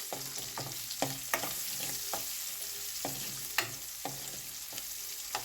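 Ingredients for a brinjal chutney fry gently in a pan, a soft continuous sizzle broken by repeated light clicks and taps of a stirring spoon, fairly quiet and close, with no talking.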